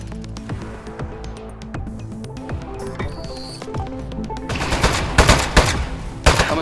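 Rapid gunshots crackle in Aperture Desk Job. They start as scattered snaps over background music, then turn into a denser, louder burst of firing near the end.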